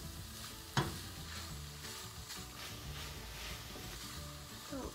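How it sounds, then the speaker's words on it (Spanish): Chicken in sofrito sizzles steadily in a pan for a Salvadoran roasted-chicken sandwich filling, with one sharp utensil knock early on and a soft, even crackle throughout. "Lo vamos a dejar cocinando aquí por otros 5 minutos para que agarre el saborcito del sofrito."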